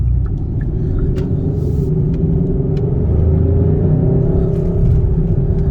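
A 2021 Hyundai Sonata N Line sedan engine drones steadily with deep road rumble, a continuous loud interior hum that swells slightly toward the end.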